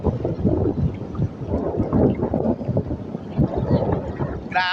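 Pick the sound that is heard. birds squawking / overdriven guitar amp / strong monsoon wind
strong monsoon wind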